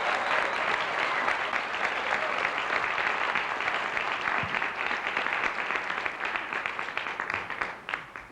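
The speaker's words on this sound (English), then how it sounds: "Let's give him a big round of applause." Sustained applause from an audience at a Black Reformers Network event in Kansas City, Missouri, steady dense clapping that stays loud throughout, with no talking over it.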